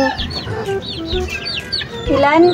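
Chicks and hens of a white Kelso flock cluck and peep loudly at feeding time, close by, with overlapping calls and chirps throughout.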